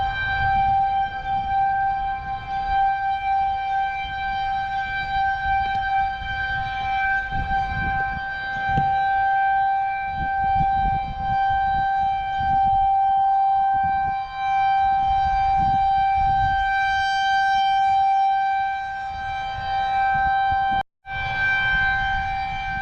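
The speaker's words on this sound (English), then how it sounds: "Moments later, sirens howled through the campground." A loud tornado warning siren wails continuously over a campground, its steady harmonic tone sustained over rumbling background noise, cutting out briefly near the end.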